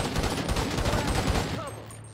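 Gunfire in GTA Online, a dense sustained fusillade of rapid shots near and loud, continuing steadily through the clip with a voice speaking over part of it.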